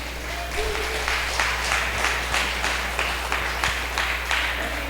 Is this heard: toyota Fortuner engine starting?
no